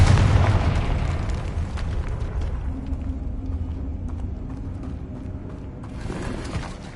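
Confringo blasting spell from Hogwarts Legacy, a loud booming explosion at the start that rumbles and decays into a long low roar of debris, with a second softer burst near the end.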